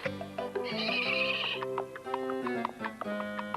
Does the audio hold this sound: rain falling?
no